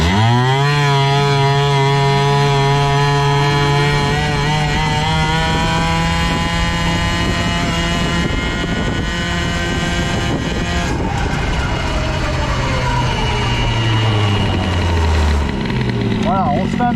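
Stock Airsal CPI 70 moped engine revving loudly and close, its buzzing pitch rising and holding, then dipping and climbing again toward the end.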